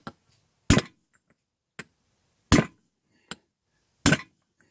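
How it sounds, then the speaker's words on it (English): Five sharp metallic hammer blows drive a bearing into a yacht boat trailer wheel hub, struck alone at irregular intervals with three heavy hits and two lighter taps, close and ringing briefly. "Hit it good sharp hits with a big hammer."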